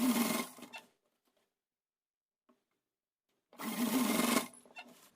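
A sewing machine runs in two loud bursts, stitching a fold of fabric over a cord for a small saree-style outfit, with near-silence between the runs.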